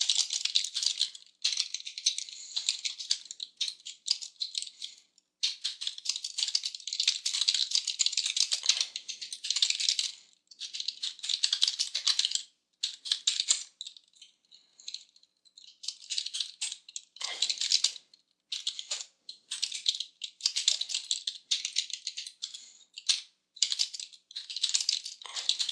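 Fast, close clicking of computer keyboard keys in dense bursts with brief pauses, steady and crisp throughout, with no voices.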